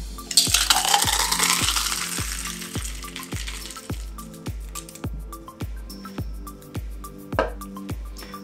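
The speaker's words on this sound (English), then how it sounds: "And we're just gonna open pour into our Pearl Diver glass." Tiki cocktail with ice open-poured from a shaker into a Pearl Diver glass: a splashing pour with tumbling ice clinks, then a run of evenly spaced knocks and taps, moderately loud with no talking.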